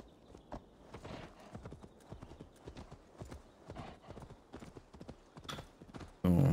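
Horse hooves clip-clopping at a steady trot while riding along a path in the game Assassin's Creed Valhalla, a fairly quiet, continuous rhythm of hoofbeats ending in a sudden louder burst of noise.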